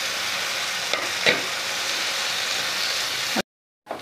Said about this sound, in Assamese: এতিয়া ইয়াতে মই সজিনা আৰু আলুখিনি এড কৰি দিম এয়া একেলগে দি দিছোঁ